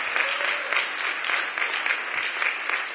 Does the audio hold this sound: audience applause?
yes